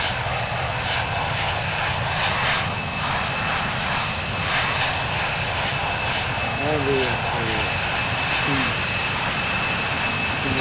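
An Airbus A319 on its takeoff roll and climb out of St. Louis, heard from inside the cabin, with a loud, steady jet engine roar throughout and faint cockpit radio voices underneath.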